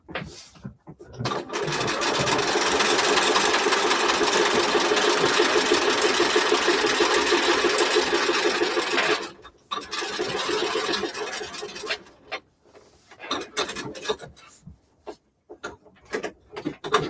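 Home sewing machine stitching a fleece vest, a steady loud whir running for about eight seconds, then stopping and restarting in short bursts and stops, with a few quiet pauses between.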